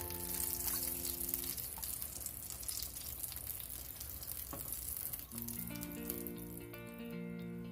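A thick gordita sizzles and crackles steadily in hot oil as more oil is spooned over it, a close, continuous frying hiss that runs alone without any voices.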